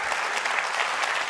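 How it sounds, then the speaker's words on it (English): Audience applause fills the room, a steady, dense wash of many hands clapping at close range with no pauses across the brief moment. "why are you clapping for that?"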